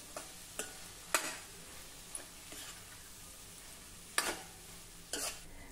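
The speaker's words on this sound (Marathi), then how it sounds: "आता तेलावर या मसाल्यांसोबत ही कांदापात देखील आपल्याला जरा परतून घ्यायची आहे।" Chopped spring onions sautéing with spices in oil, a soft, low background sizzle punctuated by a handful of sharp utensil taps and scrapes against the pan, quiet and close, no speech.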